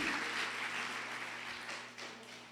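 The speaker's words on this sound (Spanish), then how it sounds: "Dele un aplauso al Señor si usted cree que Dios le va a hablar" A church congregation applauds in a steady, continuous wash of clapping that fades a little toward the end, with a low hum running underneath.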